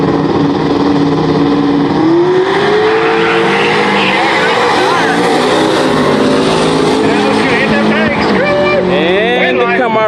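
A 1967 big-body Chevelle and a Camaro launch side by side in a no-prep street outlaw drag race, engines roaring loud and close and climbing in pitch as they accelerate, with a commentator talking over the noise.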